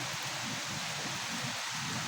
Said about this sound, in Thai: ฝนนี่บ่หยุดจักเทื่อเนาะ